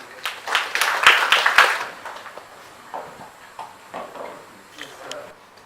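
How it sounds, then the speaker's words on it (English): Colloquium audience at a physics institute clapping for a professor, a short burst of applause that peaks in the first two seconds, then thins into scattered claps and faint rustling. "So let's have a big round of applause for Professor Pati"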